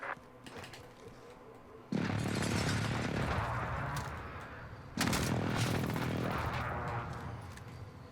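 Two heavy airstrike blasts in Call of Duty Warzone, each a sudden loud broadband boom that rolls into a long rumbling decay, the second arriving about three seconds after the first.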